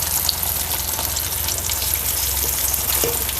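Pieces of rohu fish fry in hot oil, giving a steady, dense sizzle with small crackles and pops, close up and uninterrupted, with no talking.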